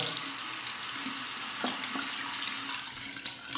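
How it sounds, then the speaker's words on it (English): Hot water running steadily from a tap as a shaving brush is soaked beneath it, a continuous close hiss and splash with small shifts in the flow, no talking. "soak it under the hot water"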